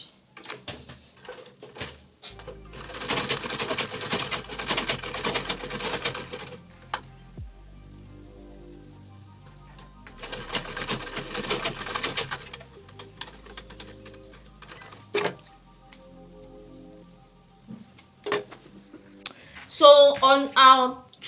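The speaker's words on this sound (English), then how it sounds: "So I'm just going to top stitch at this top part." A sewing machine top stitches a bag pocket in two separate bursts of rapid, fairly quiet stitching, with pauses, fabric handling and a short voice near the end between them.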